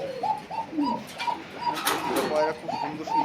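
Yellow English fantail pigeons cooing in a loft, a regular series of soft rising-falling coos repeating about every half second, fairly close, with faint background noise and some rustling.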